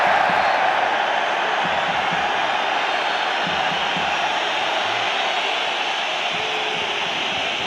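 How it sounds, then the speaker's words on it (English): Stadium crowd at a Chelsea versus Barcelona football match, a steady dense roar of jeers and booing filling the whole stretch, loud and continuous with no pauses. "Crowd showing their displeasure"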